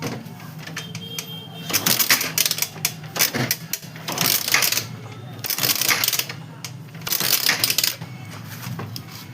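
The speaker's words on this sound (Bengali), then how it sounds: "তো দেখো আমি কিক মারছি, ইগনিশন কিন্তু এখানে অন আছে।" A Hero Super Splendor BS6 motorcycle that won't start, with the ignition on, is kicked repeatedly: a series of sharp mechanical clattering bursts from the kick-starter, close and loud, with no engine catching.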